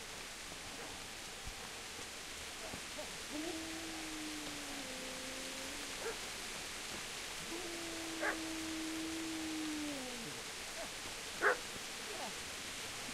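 Dog in the video game Kingdom Come: Deliverance whimpers and whines in drawn-out tones over steady wind-like ambient noise, with a few faint sharp yips.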